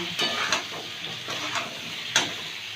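Vegetables, flat beans, radish and potato, fry in a pan with turmeric and salt, giving a soft sizzle broken by a few sharp scrapes and clinks of a spoon stirring.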